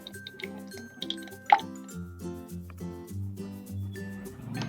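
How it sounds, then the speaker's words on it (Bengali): About 400 grams of yogurt goes into a large mixer jar in a short series of soft, wet plops and drips, with a faint tonal background underneath. "একটা বড় মিক্সার জার নিয়েছি। নিয়ে এখানে আমি 400 গ্রাম দই দেবো।"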